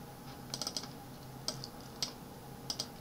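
Keys on a computer keyboard click quietly in short irregular bursts of taps, close and soft against a faint background hiss.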